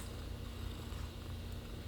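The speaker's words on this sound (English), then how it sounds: "Oh, you purring." A 13-year-old female cat purrs close to the microphone in a short, faint, steady low rumble with no talking over it.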